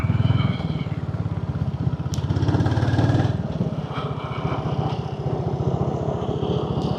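A Royal Enfield Hunter 350 motorcycle cruises along the Changanassery–Alappuzha highway, its single-cylinder engine thumping in a steady, loud drone from start to finish, mixed with some wind noise.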